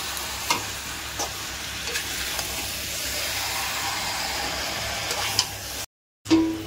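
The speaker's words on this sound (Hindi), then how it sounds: "मिक्स कर देते हैं जो मसाला बना है ग्रेवी उसमें" Masala stirred into chicken curry gravy in a pan during village cooking, a steady close sizzle with soft scraping strokes of the spoon, then a brief moment of silence near the end.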